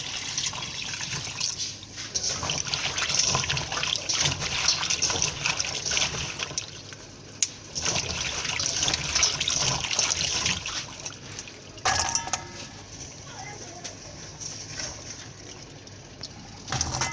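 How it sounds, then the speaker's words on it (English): Freshly broken coconut pieces are washed under running water, giving a steady splashing trickle and faint clatter close by, alone without talk. "This is the coconut that I've just broken. I'm going to wash it after cutting it."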